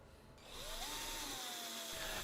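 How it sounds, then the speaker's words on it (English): A power drill whines as it bores holes into a soft plastic fishing bait, a steady high motor hum that rises after a short start and holds, fairly quiet and close. "I figured that the easiest way to do the slot would be to basically drill a bunch of holes"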